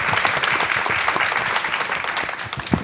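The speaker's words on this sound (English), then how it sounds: "So let's give that a round of applause." Steady, dense applause from a lecture audience at a university president's lecture series, continuous clapping filling the room at a close, even level with no speech.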